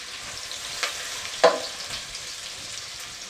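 Onions and green chillies frying in a pan, a low, faint sizzle with one sharper stir or clink in the middle, close and quiet, no one talking.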